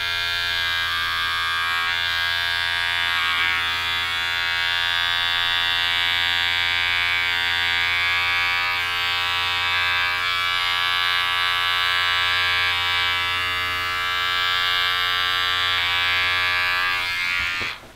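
Electric hair clippers with no guard buzz steadily and loudly at close range while the bare corner of the blade trims in a circle around the ear during a home haircut, continuing almost unbroken throughout.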